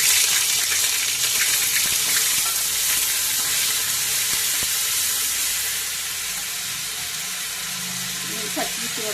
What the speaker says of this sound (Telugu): చూడండి ఆయిల్ బాగా వేడెక్కింది. ఇప్పుడు మసాలా పేస్ట్ వేసుకుందాము.